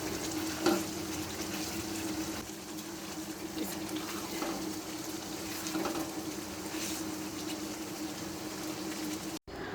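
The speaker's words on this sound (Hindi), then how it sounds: "अब हम इसकी अच्छे से भुनाई करेंगे ताकि जो इसमें हल्का सा पानी रह गया कलेजी का वो भी खुश्क हो जाए" Mutton liver (kaleji) frying dry in a pan, giving a steady, moderately loud sizzle and crackle that runs evenly throughout with no talk.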